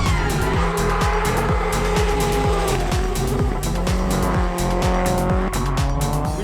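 A rally car at the Oregon Trail Rally drifts on gravel with its engine revving hard and loud in repeated rising surges, mixed with tire squeal and rushing road noise, with no pause.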